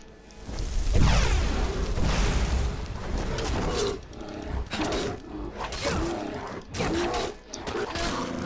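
A bear roars in the video game Skyrim, a loud, rough growl that swells in the first seconds and then breaks into several shorter grunting bursts over a low rumbling background, with no talking.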